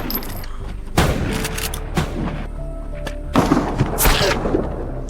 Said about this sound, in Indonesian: Alex menembakkan senapannya tepat mengenai salah satu anggota